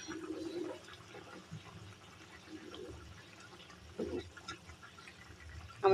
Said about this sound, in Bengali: এই তো আমার কাঁঠালের বিচির আর ভেন্ডির চচ্চড়িটার বলক উঠে আসছে